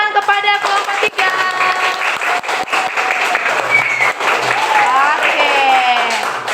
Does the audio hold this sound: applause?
yes